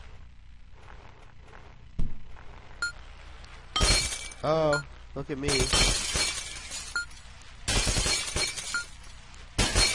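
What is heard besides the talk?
glass breaking in video game Happy Wheels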